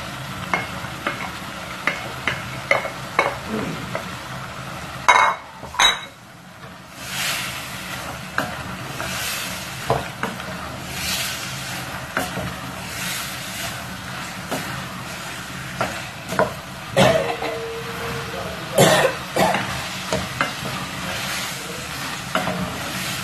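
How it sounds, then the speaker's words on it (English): Gizzard is stirred into a sizzling pepper mixture, with continuous frying hiss under repeated scraping and clattering spoon strokes against the pan, close and irregular. "I'm going to add in my gizzard into the mixture"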